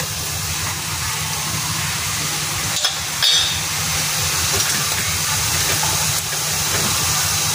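Coconut milk with crab boiling in a pot, a continuous soft bubbling hiss and sizzle at close range, with a couple of brief clinks or knocks midway and no speech.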